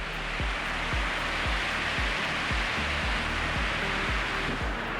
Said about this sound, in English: And it is a pretty waterfall.